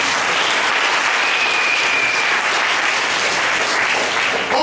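Church congregation applauding together during a Sunday worship service, a dense, steady wash of clapping that stays loud and even for the whole stretch with no voices rising above it.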